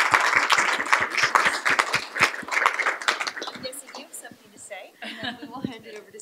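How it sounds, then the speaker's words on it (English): Clapping from an audience at a school board meeting, distinct individual claps in a moderately sized room that thin out and fade partway through, with light chatter and chuckles afterward. "So how about a round of applause for Susan?"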